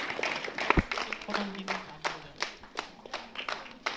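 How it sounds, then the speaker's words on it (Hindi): Audience clapping for prize winners at a school Independence Day event, a scattered run of hand claps under a voice speaking over a loudspeaker. "तालियां बजती रहनी चाहिए"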